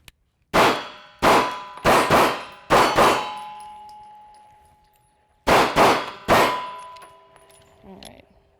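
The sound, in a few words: M&P Shield 9mm pistol shots ringing on steel targets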